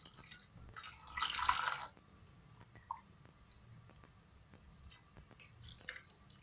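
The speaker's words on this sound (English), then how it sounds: "Then I'll also add in some water." Water is poured briefly into a pot of milk heating for white coffee: a short splashing burst, then quiet, scattered drips and small clinks in a calm kitchen.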